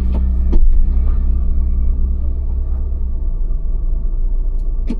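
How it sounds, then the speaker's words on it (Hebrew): A car revs hard while driving through deep sand, a loud, steady low engine rumble straining continuously throughout, with no talking. "גז! תני לו גז, תסתכלי לאן את נוסעת."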